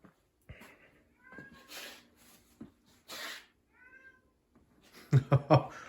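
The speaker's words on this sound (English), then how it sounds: "the cat sounds like he's dying out there" A cat yowls in several drawn-out, wavering cries with pauses between, followed by a few sharp, louder bumps near the end.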